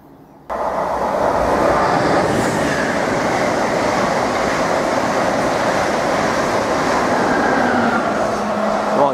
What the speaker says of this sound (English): we've got a turbo stock unit now, en route for Ipswich to Peterborough. About to pass through Needham Market Station. Here it comes.